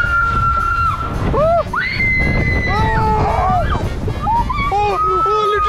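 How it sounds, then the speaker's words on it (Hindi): Loud, overlapping screams and shrieks from riders on a water park ride, rising and falling pitched cries over a rushing wind-and-water roar, close and intense throughout. "इतनी तेज आवाज आ रही तुम्हारी चिल्लाने की"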